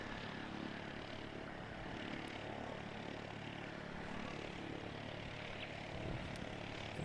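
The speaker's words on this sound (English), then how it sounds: "710 from Wanaka, lined up on final approach" A small propeller plane, inbound from Wanaka and lined up on final approach to Christchurch Airport, drones faintly and steadily from far off, a low continuous hum with no voices over it.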